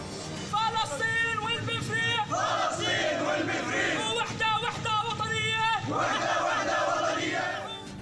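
A crowd of Palestinian students at a university protest in Hyderabad shouts freedom slogans in rhythmic unison, with raised voices rising and falling in repeated chant phrases that fill the whole stretch with dense, loud group vocals.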